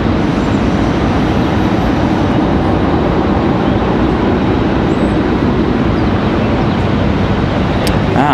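A Frontier airliner departs from Raleigh Durham International Airport, its jet engines producing a loud, steady, broadband roar that holds constant throughout, with no speech.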